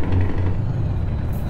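A new truck's engine runs steadily at close range, giving a continuous deep rumble that holds evenly throughout with no voices.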